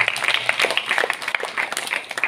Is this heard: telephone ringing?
no